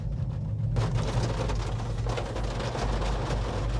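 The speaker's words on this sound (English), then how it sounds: "the rain's starting to come down pretty good" Rain begins falling on a road trip during the Hot Rod Power Tour, a steady hiss of drops swelling in suddenly after a quiet moment, over a low constant rumble of an idling vehicle.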